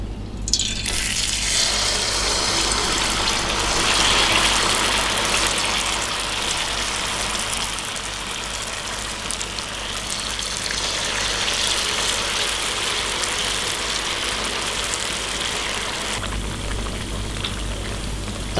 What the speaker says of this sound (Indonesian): Langsung kita goreng.